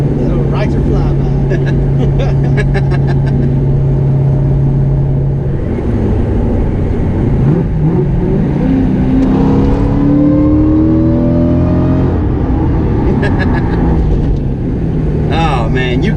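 Cody's new car with an Eaton supercharger driving and revving, a loud steady engine drone with rising whine as it accelerates, heard from inside.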